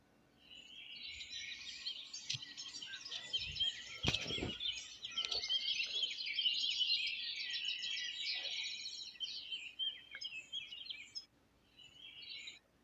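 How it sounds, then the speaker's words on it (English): Songbirds chirp and trill continuously in a spring setting, a busy overlapping chorus of small birds at moderate distance with a brief low thump near the middle and no talk. "we also see the flowers blooming and the birds chirping."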